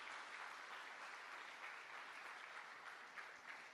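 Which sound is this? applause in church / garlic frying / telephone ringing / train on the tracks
applause in church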